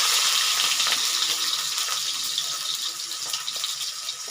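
Cut potatoes fry lightly in oil, giving a soft, continuous hiss with faint crackles that fades gradually, close by and without talk.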